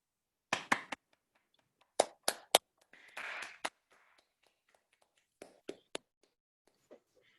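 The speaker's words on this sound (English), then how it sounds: "let's clap for the speaker first" Scattered hand claps from a small online audience after a research talk, a few quick bursts of sharp claps separated by silence, plus a short stretch of rustle.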